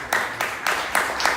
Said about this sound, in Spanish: Un aplauso para Eduardo Limón.